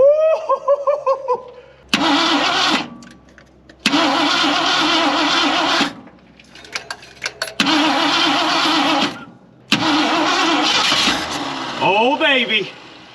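An old Ford F100 pickup engine, abandoned for decades, cranks and catches in repeated loud bursts of rough running separated by short pauses, with brief voices and a final whining tone at the end.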